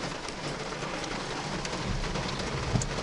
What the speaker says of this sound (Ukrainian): у нас ще й дощ іде йде